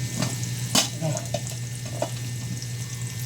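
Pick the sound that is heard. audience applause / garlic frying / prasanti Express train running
garlic frying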